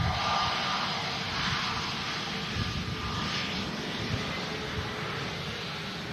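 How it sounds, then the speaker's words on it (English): A Ryanair airliner from Gdansk comes in to land during Storm Pia, its jet engines giving a steady, broad roar over gusty wind noise throughout, distant but constant, with no voices. "making way for the Ryanair from Gdansk next to land"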